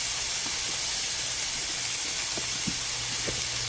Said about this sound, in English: So we're gonna let the sausages cook up.